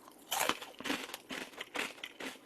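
Crispy hamburger-flavored potato sticks from Goobne Chicken crunch in close, irregular bursts of eating, loud against a quiet background.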